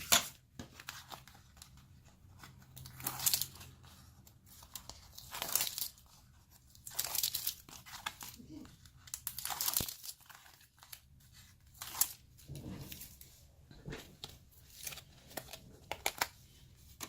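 Tape crinkles, tears and is pressed onto a card panel for a double horseshoe wedding card, a series of irregular crackling rips and rustles heard up close over about seventeen seconds, with no talking.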